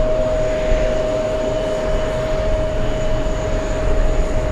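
A Chinese delegation aircraft on final approach, arriving for UN week at JFK, makes a loud, steady engine roar with a sustained whine, close and continuous, with no voices.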